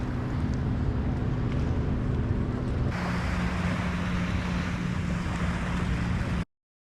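Loud, continuous motor drone of a dredging boat on water off Florida with wind buffeting the microphone, steady throughout before cutting off abruptly.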